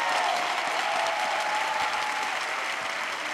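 A crowd in a hall answers a call for applause with loud, sustained clapping, dense and even from start to finish with no one speaking over it.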